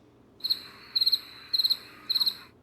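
Crickets chirp in four quick, evenly spaced bursts of three or four trills each, bright and clear against a quiet background with no voices.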